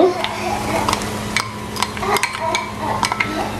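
Two medium chopped onions going into a pan for green jackfruit cutlets: clattering scrapes of a spoon against the pan over a low sizzle, close, with a voice talking underneath.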